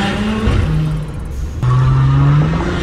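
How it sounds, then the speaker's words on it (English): An SUV engine with a catless downpipe and loud turbo exhaust revs hard and close, its droning tone climbing, dropping briefly, then surging back louder. "Let's talk about the exhaust noise in the car."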